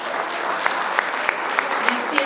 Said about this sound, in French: Une bonne main d'applaudissements pour Pierre-Richard Thomas.